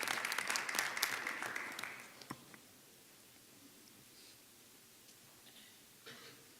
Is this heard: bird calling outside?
no